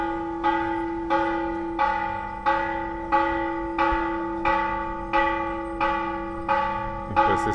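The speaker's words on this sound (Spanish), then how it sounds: "Está sonando la campana" A temple church bell in Nextipac, near Guadalajara, tolls about eleven times at a steady rhythm of roughly one strike every two-thirds of a second, each ring decaying into the next, alone and fairly near.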